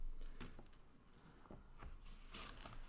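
A nickel coin drops in a coin game, a sharp metallic clink followed by lighter jingles and faint rattling in a quiet room.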